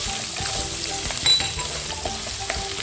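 Chillies, curry leaves, onions and grated carrot frying in oil for a Kerala-style poha: a continuous close sizzle with light stirring scrapes and an occasional clink.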